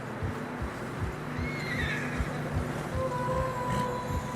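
A horse whinnying in deep snow in Red Dead Redemption 2, a high shaky neigh over heavy plodding hoofbeats and a low rumbling background.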